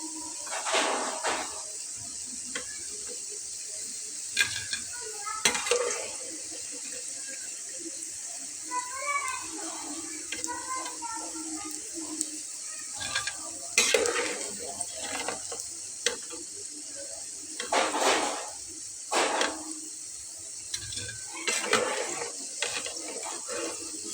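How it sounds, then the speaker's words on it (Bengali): Potato laccha pakoras fry in oil with a soft, continuous bubbling sizzle while a few are lifted out, punctuated by sharp clinks and scraping pulses; faint speech-like murmurs drift underneath. "তো বন্ধুরা এখন আমি এগুলোকে একটু তেল ছড়িয়ে ছড়িয়ে তুলে নিচ্ছি।"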